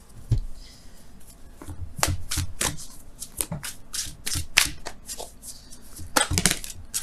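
A deck of Wisdom of the Oracle cards being shuffled by hand, a run of quick, crisp riffling snaps and rubs at close range with short pauses, no talking.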